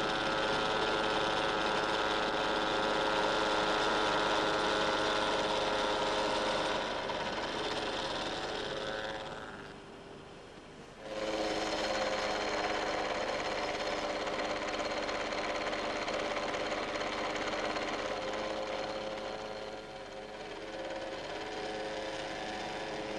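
A loud, continuous machining whine with a dense metallic buzz as a milling machine cuts toughened steel for tool holders, briefly dropping off midway before resuming at full strength.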